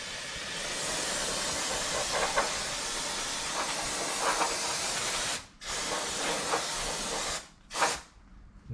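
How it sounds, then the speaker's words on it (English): Brake cleaner sprays in a long, loud, continuous hiss onto the rear brake of a 2010 Vauxhall Corsa SXi 1.2 petrol, then in two shorter bursts after brief pauses, with no speech. "Then use the brake cleaner just to give it a good soaking really,"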